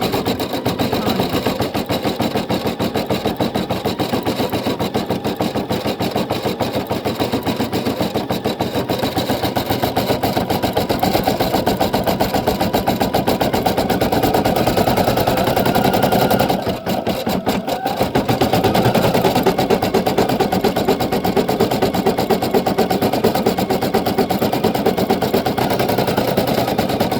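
A Brother PE800 embroidery machine stitches nonstop in a fast, even mechanical whir with a rapid needle rhythm. It pauses briefly about two thirds of the way through and then resumes at the same loud, close level.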